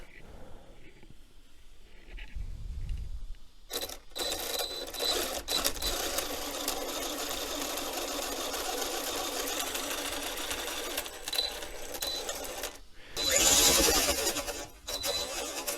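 After a click, the small electric motor of an RC car whirs with a steady high-pitched buzz, cuts out briefly, then surges louder before settling again.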